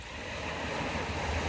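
Ocean waves wash steadily against the Monterey coast, a continuous broad rushing surf with a faint windy edge and no distinct breaks, heard alone.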